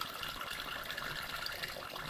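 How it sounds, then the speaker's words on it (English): Ordinary water pours steadily into the cooling system of a 1971 Triumph Stag Mk1 3.0 V8, a continuous close gushing wash with no pauses and no voices. "Now I'm tipping it in ordinary water."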